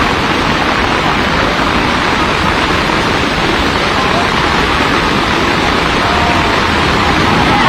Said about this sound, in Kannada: ರಸ್ತೆಯ ಮೇಲೆ ರಭಸದಿಂದ ನೀರು ಹರಿಯುತ್ತಿದೆ.